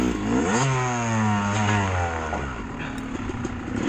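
A trail motorcycle engine sounds close and loud, rising and falling in pitch as the rider revs and eases off over rough ground, with a steady clatter underneath.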